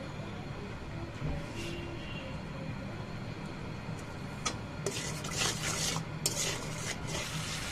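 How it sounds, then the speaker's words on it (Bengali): Spice paste with turmeric and salt being stirred and fried in oil in a pan, giving a steady low sizzle with scraping spoon strokes that grow busier and brighter toward the end, with no talking. "মশলাটা ভালো করে কষিয়ে নেব, আর দিয়ে দেবো একটু লবণ স্বাদ মতন।"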